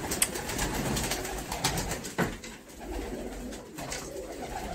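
Punjabi Malwai pigeons coo softly among ambient outdoor noise, low murmuring calls repeating at a moderate distance.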